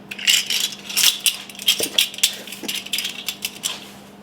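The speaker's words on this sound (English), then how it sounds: "Going to mix those eggs up" Eggs being mixed in a bowl for chocolate bread pudding, a fast close rattling and clinking of a whisk or fork against the bowl in quick bursts, fading at the end, with no voices.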